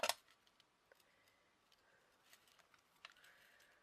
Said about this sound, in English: I'm just going to snip that there